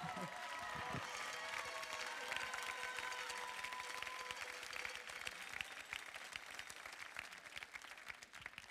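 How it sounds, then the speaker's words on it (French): An audience applauds Jade at the Bocuse d'Or France 2023 award ceremony, with steady, dense clapping running throughout and a few voices and cheers mixed in. "On peut l'applaudir, Jade."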